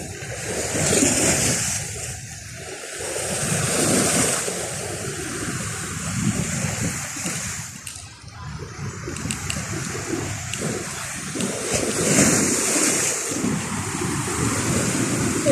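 Sea waves washing onto a beach, a continuous broad roar rising and falling in slow surges, with wind buffeting the microphone throughout.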